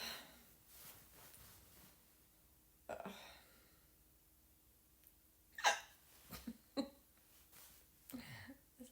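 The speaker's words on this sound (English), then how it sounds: "No, I don't want to have the hiccups" A person hiccups repeatedly in a quiet room, with several sharp, isolated hiccups spaced irregularly across the stretch and soft breathing between them, close and moderately quiet.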